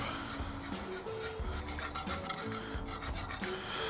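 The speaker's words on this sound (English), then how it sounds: "Give that all a quick mix through." Thickening cheese sauce for mac and cheese stirred in a pan, a steady scraping and rubbing of utensil against the pan in an irregular rhythm, close and moderately loud with no talking.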